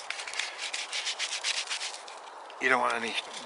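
Sandpaper rubs over a hand-carved wooden spoon in quick, rhythmic back-and-forth scratching strokes, close and clear. A brief voice cuts in near the end.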